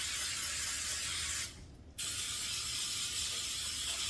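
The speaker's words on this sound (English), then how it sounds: "And you want to spray some more cooking spray on top." Cooking spray hisses steadily over chicken thighs, breaking off for about half a second before a second long burst, loud and close with no voices.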